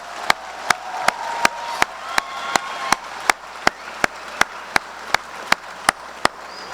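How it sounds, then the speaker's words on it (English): At a 2016 high school graduation, the crowd gives the graduating class a round of applause. One loud clapper close by claps in a steady, even beat over softer crowd clapping in the background. "can we get a big round of applause for the class of 2016?"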